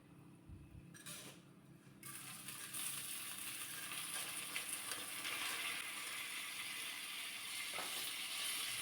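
Soaked rice poured into ghee with dry fruits and roasted, with a few clinks and scrapes at first, then a steady sizzle that grows and holds, fairly faint overall.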